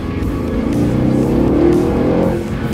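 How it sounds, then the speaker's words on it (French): Sports car with a V8 engine running nearby, a steady loud low growl that swells slightly as it revs, heard alone without talk. "Tu l'entends le V8 derrière."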